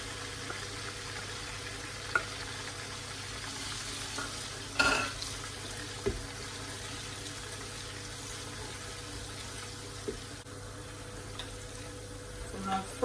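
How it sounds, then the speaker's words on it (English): Tomato paste frying in a pot for Nigerian party jollof rice gives a faint, steady low sizzle, with a few sharp spoon-stirring clinks scattered through and no talking. "I'm going to fry it for a minute. I'm putting my tomato paste first."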